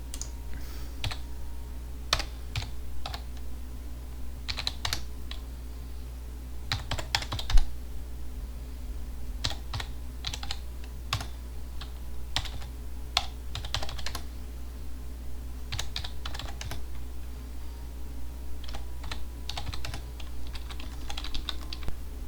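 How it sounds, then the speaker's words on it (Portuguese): Rapid clicking of computer keys as data is typed into an Excel spreadsheet, coming in irregular bursts and pauses over a steady low hum, close and moderately loud, with no talking. "E o resto eu vou ter que digitar."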